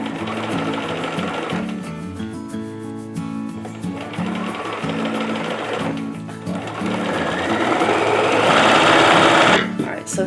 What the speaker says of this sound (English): Now on the massive tablecloth in there, I put my machine in half speed.